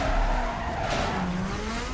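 A Fiat Punto drives hard in Need for Speed, its engine droning steadily while tyres squeal and skid across the two seconds, loud and close with no talking.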